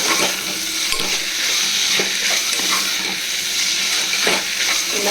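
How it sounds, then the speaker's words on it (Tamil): Chopped tomatoes with mint and green chili sauté loudly in hot oil for prawn biryani, a continuous near sizzle broken by stirring scrapes. "நல்லா வதக்கி விடணும்"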